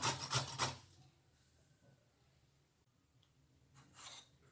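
Bottle gourd rubbed against a grater in quick rasping strokes, loud and close at first, then fading to quiet before a final short burst of scraping.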